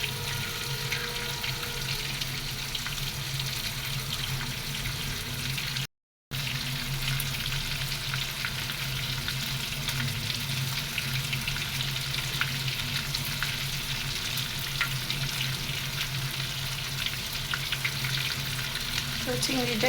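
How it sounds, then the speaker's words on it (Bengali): Shrimp frying in a pan, a steady, loud sizzle and crackle that runs almost unbroken with no talk. "তো চিংড়িটা এদিকে ফ্রাই হবে আর আমি এদিকে বাকি মশলা দিয়ে দিব।"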